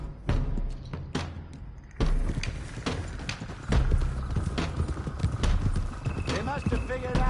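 Horses galloping in Red Dead Redemption 2, a dense, loud, continuous drumming of hooves with snorts and a whinny, heard under spoken dialogue and rumbling game sound.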